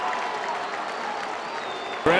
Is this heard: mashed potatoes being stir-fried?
no